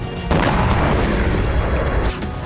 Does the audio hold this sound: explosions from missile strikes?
yes